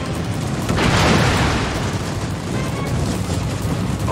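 Incoming fire and explosions in the Indomitable video game make a dense, continuous barrage of booms and rattling gunfire, swelling loudest early, with a brief voice heard beneath the din.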